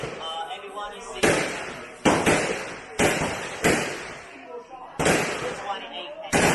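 Gunfire at the Cu Chi Tunnels shooting range in Vietnam, five loud, sharp reports spaced about a second apart, each followed by a ringing decay, with voices faintly underneath.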